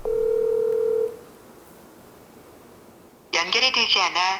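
While someone places a phone call, a steady telephone dial tone sounds for about a second and cuts off. A quiet stretch follows, then a person starts speaking.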